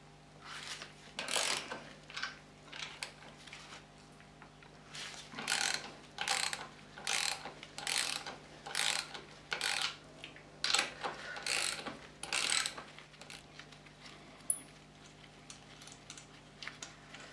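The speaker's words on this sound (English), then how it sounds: "so I've got myself a 9/16 socket here. I'll loosen these off." A ratchet with a 9/16 socket loosens the front brake caliper bolts on a Triumph Bonneville T140, giving repeated close clicking bursts in a steady back-and-forth rhythm with short pauses, fairly quiet and with no talk.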